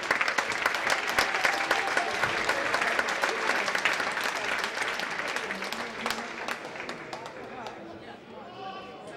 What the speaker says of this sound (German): Großen Applaus hier im Finale der Fechterkategorie